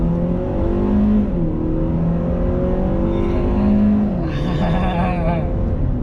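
A 2010 Ford Escape XLT accelerating hard from a standstill, its engine note climbing through gear changes with a steady road rumble, close and loud, ending in a higher strained pitch.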